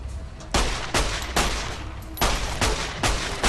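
Gunfire in the video game Fallout: New Vegas: a series of loud, close bursts spaced roughly half a second apart, each shot booming sharply before fading, with no talking.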